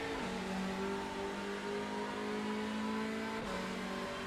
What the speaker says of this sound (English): Really cool sounding car, this for Anderson.